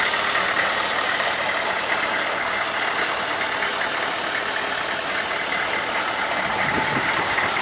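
A 1995 Suburban conversion's engine idles steadily close by, a continuous rumbling drone with no talking.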